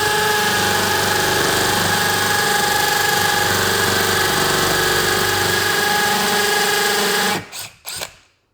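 A DeWalt drill on hammer setting runs loud and steady for about seven seconds with a dense rattling drone, then cuts out abruptly, followed by two short bursts as it stops.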